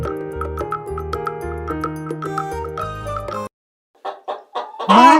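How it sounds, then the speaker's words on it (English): A hen clucks in a few short, bright bursts that quicken into an excited squawk, loud and close, right after a cheerful children's melody ends. "Nice hen."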